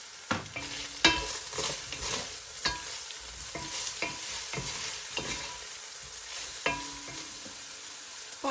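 Sausages being stirred into spaghetti sauce in a frying pan, with steady sizzling under repeated scraping and stirring strokes, the spoon knocking against the pan several times.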